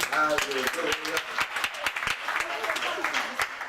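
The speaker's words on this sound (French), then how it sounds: "on peut les applaudir" A congregation at a church service claps in a dense, sustained round of applause, loud and close, with voices calling out over the clapping.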